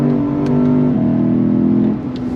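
A 2024 Lexus IS 500 F sedan's engine revs hard through quick manual-mode shifts, its steady drone dropping in pitch at each of two rapid gear changes, loud and close from inside the car.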